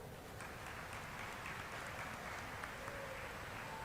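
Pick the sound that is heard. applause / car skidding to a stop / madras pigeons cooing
applause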